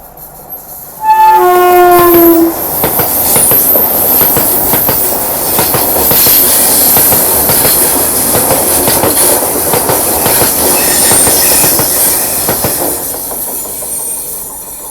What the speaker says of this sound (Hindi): 8 कोच वाली ये वंदे भारत एक्सप्रेस है। बेंगलोर बेलगावी तुरंत ओवरटेक करके गायब